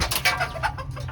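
Hens and a rooster are shooed out, giving short close clucks and squawks in quick bursts with rustling in the background.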